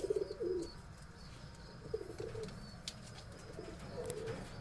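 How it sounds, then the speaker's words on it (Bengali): A restless male and female pair of pigeons in a breeding loft coo in low, rolling bursts at intervals, close by, with faint chirps and rustling between calls. "পায়রা দুটো ঠিক মতো ভিডিও করা যায় না, খুব চঞ্চল হুটোপাটা করে"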